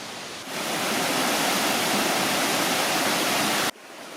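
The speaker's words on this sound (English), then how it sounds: "Waterfall." Waterfall on a hike in Forêt La Blanche, Canada, near a lookout and bridge, a steady loud broadband rush of falling water that swells in after a moment and holds constant before cutting off abruptly.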